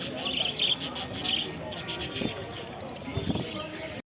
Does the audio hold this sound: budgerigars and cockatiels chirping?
yes